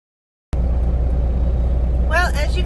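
A truck engine runs after a jump-start from a car, cutting in abruptly from silence and settling into a steady, loud, low idling rumble, with a person speaking briefly over it near the end.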